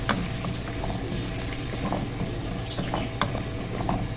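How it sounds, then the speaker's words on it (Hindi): Sliced potatoes frying in a pan for spiced achari aloo katli, with steady sizzling and scraping clicks from stirring, continuous and close throughout. "अब हम इसमें डाल देंगे कटे हुए आलू और थोड़ा सा हमने इनको फ्राई करना है।"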